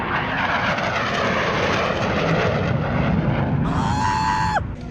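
A military jet aircraft roaring past at the Miramar airshow, a loud steady engine rumble throughout, with a rising whine near the end as it passes close.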